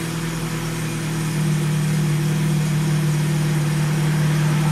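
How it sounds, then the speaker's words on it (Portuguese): A Fiat Strada 1.4 Fire engine idles steadily at close range with a fully open exhaust, a loud, rough, throaty rumble that holds constant throughout with no talking. "Tá com o escape todo aberto, tá vendo? O barulho do escape."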